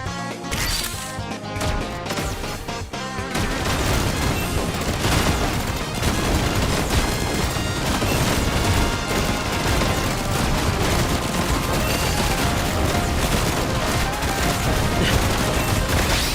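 Gunfire in the shooting game Nikke: after a few seconds of lighter effects, a dense, loud, continuous barrage of rapid shots and impacts runs without pause to the end.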